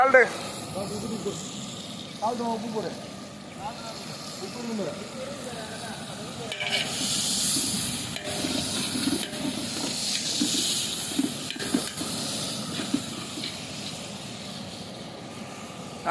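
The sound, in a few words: pot of food boiling over with hissing steam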